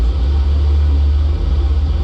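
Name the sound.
landing gear going down in a flight simulator video game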